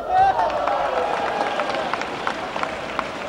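Crowd cheering and applauding at a celebrity badminton match, a steady wash of many voices with scattered claps that stays loud throughout.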